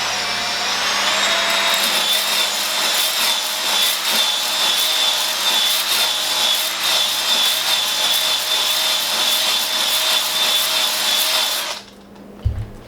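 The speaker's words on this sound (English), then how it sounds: "that's pretty much how you hone your bore" A cylinder hone spins inside a worn go-kart engine bore, giving a loud, steady, high-pitched whirring grind that runs unbroken and then stops abruptly near the end.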